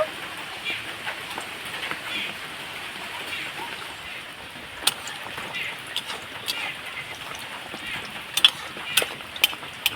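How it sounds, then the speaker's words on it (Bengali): Mughlai paratha stuffed with boiled potato fries in hot oil, giving a continuous crackling sizzle that turns to sharper scattered pops toward the end, close and moderately loud, with no talking. "মুগলাটা তৈরি করে নিয়েছি তেলের মধ্যে ছেড়ে দেব"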